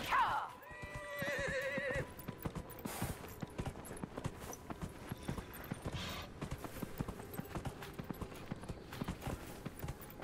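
In Dragon Age: Inquisition, a horse whinnies loudly at the start, then steady hoofbeats clop along under game music and effects.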